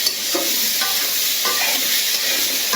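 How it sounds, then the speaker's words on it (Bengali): Small potatoes fry in a pan with a loud, continuous close sizzle, broken by a few soft scraping stirs. "আর ওই পাশে ছোট আলু ভাজি করতে দিয়েছি"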